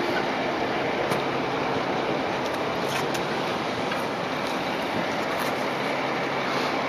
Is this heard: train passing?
yes